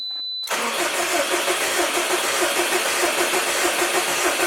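A Subaru STi engine fires up abruptly after a quiet pause, then runs close and loud at a steady, slightly rough idle.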